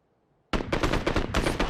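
Sudden bursts of rapid gunfire erupt from silence in the PUBG battle royale game, loud, close and repeated in quick volleys.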